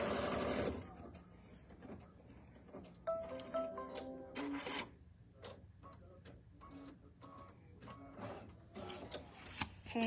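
An embroidery machine stitching a zigzag on quilt fabric, faint irregular mechanical ticking and tapping stitches, quiet and close.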